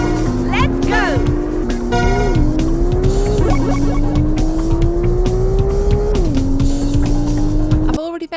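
In the PS1 racing game Porsche Challenge, a Porsche engine whines and shifts through its gears, steadily rising and dropping, while tires squeal and skid through corners, loud and close.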